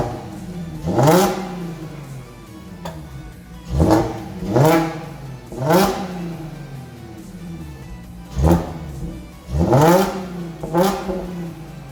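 A 2016 B8.5 Audi S4 fitted with an AWE touring exhaust revs sharply five times over about twelve seconds, each burst rising and falling back to a steady idle between blips, close and loud with no talk.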